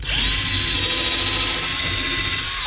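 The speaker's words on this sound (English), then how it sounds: "drill some pilot holes" A cordless power drill bores pilot holes into a wooden board for a sawhorse build, giving one loud, steady, high-pitched whine that runs unbroken for the whole stretch with no voices over it.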